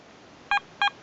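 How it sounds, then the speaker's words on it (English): A Garrett ATX metal detector gives two short, sharp electronic beeps in quick succession during ground balancing, clear against a quiet background. "2 beeps."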